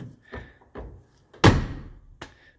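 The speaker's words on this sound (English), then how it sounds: "let's show how this door shuts. Light force, bam." Door of a 1984 Mercedes 300SD shut with light force, landing as one solid thunk among a few softer knocks and taps nearby.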